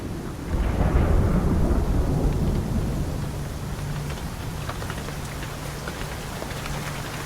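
Heavy rain pours steadily in a jungle, with a low rumble of thunder swelling early on and then easing back under the constant hiss of drops.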